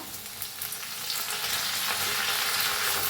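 Mustard seeds, cumin, asafoetida and ground garlic fry and get stirred in a pan of hot oil. A loud, dense, continuous sizzle with crackling pops, heard close up and with no talking.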